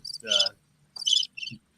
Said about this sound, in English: I think that's someone with a phone, their phone, and it's got like a cricket sound